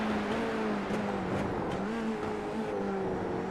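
A Formula 3 race car at Spa in iRacing brakes and drops through the gears, its engine note stepping down in a few quick blips under a steady tonal drone.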